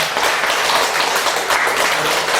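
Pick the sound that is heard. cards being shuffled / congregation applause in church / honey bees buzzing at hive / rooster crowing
congregation applause in church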